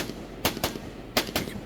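Rifle shots at shooting range targets, four sharp close cracks in two quick pairs, with no talking.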